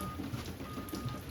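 Steady rain falling outdoors, a soft continuous hiss with scattered drops pattering nearby, faint and even with no voices.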